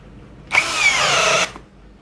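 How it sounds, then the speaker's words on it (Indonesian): A Nagawa cordless hammer drill with a self-drilling spade bit whirs briefly and loudly for about a second, then stops, close by with no talking. "Bor kipas self drilling. Saya nggak neken, dia masuk sendiri."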